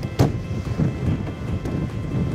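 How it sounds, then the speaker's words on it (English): Steady wind rumble and buffeting against the microphone, fairly loud and continuous, with a brief gust near the start, outdoors at an off-road destination in the Cotswolds. "Rather windy."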